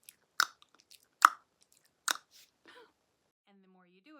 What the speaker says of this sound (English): it's where you suction your tongue to the roof of your mouth and pull it down and make a sound like this